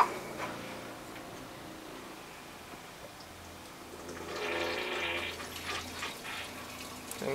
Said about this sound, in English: Same thing now for the toilet.